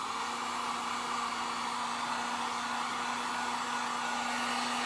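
Hair dryer blowing to dry paint on a Dollar Tree ornate frame, a steady close whirring hum and rushing airflow with no variation, alone without speech.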